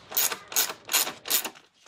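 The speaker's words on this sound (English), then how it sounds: "secured the cover with a 5/16 socket" Four quick ratcheting clicks from a 5/16 socket wrench tightening bolts on the air filter cover of a Toro 20333 mower, close and evenly spaced, then a faint fifth click.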